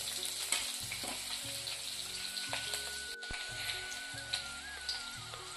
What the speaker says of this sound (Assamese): তেল গৰম হৈ পিঁয়াজ আৰু জলকীয়া দিছোঁ